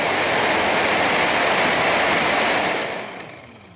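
A car heater blower fan motor in a Pontiac Grand Am runs after a resistor replacement, giving a loud, steady broadband rush of air that drops to a softer level near the end.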